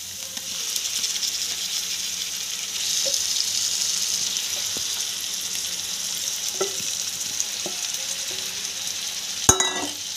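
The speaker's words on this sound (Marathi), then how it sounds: "पूर्ण परतून परतून घ्यायची तेलामध्ये।" Spiced liver stir-frying in oil on a tawa over a high flame makes a continuous crackling sizzle with scattered scraping strokes and a sharp metallic clatter near the end.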